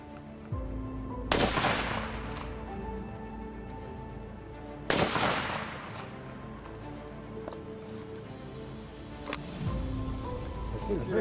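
Three sharp rifle shots, widely spaced several seconds apart, ring out while hunting guns are sighted in, each with a short echoing tail and faint background murmur between them.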